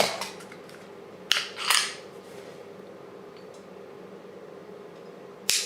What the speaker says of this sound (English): Let me drop the magazine.